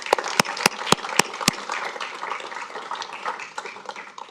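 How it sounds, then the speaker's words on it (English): Audience applause at a school board of education meeting closing an evening of recognitions for educators and students, with a few sharp, loud claps up close at the start over a steady wash of clapping from the room that continues throughout. "let's give everyone one final round of applause"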